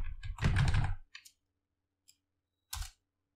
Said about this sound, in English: Type sudo apt update, press enter, enter sudo user password.